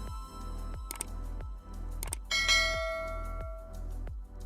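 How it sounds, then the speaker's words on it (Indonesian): A house doorbell chimes with bright, ringing tones that rise over a steady, rhythmic thumping background beat. "Tiba-tiba bel rumah berbunyi."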